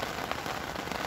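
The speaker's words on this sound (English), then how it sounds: "That's probably the rain you can hear." Rain falling outdoors produces a steady, dense hiss of drops striking surfaces, even and continuous throughout with no talk over it.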